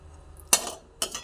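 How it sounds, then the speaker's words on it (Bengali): Two sharp clinks of a utensil against a bowl as boiled green bananas are drained and moved into it, close and brief, about half a second apart. "এবার জলটা ঝরিয়ে ঝরিয়ে একটা পাত্রে তুলে ফেলছি"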